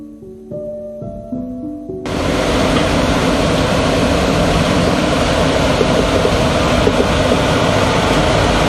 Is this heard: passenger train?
yes